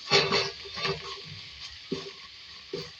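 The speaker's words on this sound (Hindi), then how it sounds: "प्याज भी, अदरक लहसुन का पेस्ट 1 खाने का चमचा, इसको फ्राई करेंगे।" Onion with ginger garlic paste fries in oil while being stirred, giving soft sizzling under several distinct scraping and clanking stir strokes, fairly close and moderate in level, with no speech.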